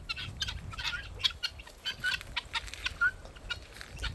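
Chickens clucking on a farm, a series of short, fairly faint clucks and calls scattered irregularly over quiet background noise.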